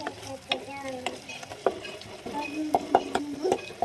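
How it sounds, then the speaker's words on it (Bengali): Spice masala with tomatoes fries in oil in a pan, a close sizzle under steady stirring, with frequent clinks and taps of a spoon against the pan's rim and sides. "এবার এটা একটু ভালো করে আমাকে কষাতে হবে, এটা ভালো করে কষিয়ে নিই"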